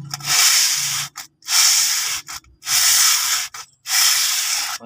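Hand sanding scours a worn, dirty rear brake drum from a Toyota car in four long, loud abrasive strokes separated by short pauses, each a broad rough hiss.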